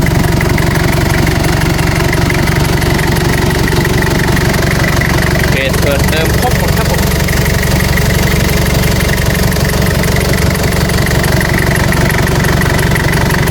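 A Toyota Sport Rider pickup's diesel engine, with a stock 11 mm injection pump and front-mounted intercooler, idles with a loud, steady, close rattling chug, while someone speaks over it.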